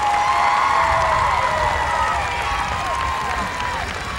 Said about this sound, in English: let's have a nice round of applause for these lovely ladies and their escort